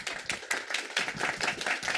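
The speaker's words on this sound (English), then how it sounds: "Can we give Faye a big round of applause?" A round of applause for an author at a book talk, irregular bursts of clapping from a small audience, fairly close and uneven over about two seconds.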